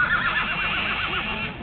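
A horse whinnies loudly and close by at an arena, a long wavering neigh that rises and falls for nearly two seconds with no talking over it.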